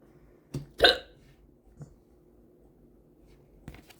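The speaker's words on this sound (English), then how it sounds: "Hiccup." A person hiccups: one short sharp hiccup, followed by a couple of fainter clicks and small breathy sounds in a quiet room, with no talking.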